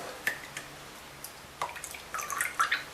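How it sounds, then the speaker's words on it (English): Excess pineapple juice trickles into a glass in a few light, wet splashes and drips, quiet and close, coming in short bursts that thicken toward the end. "So just get a glass and we'll just pour that excess juice out."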